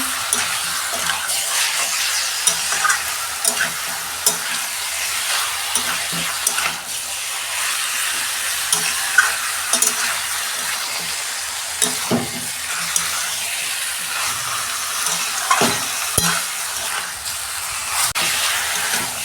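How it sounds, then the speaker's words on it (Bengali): Chicken pieces stir-fried in a pan for a Bihari-style chicken dish give off a steady, close sizzle, with occasional scrapes and clinks of stirring. "চিকেনটা আমি 5 মিনিট কষে নিয়েছি।"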